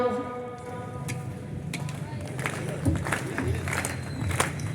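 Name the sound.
audience clapping along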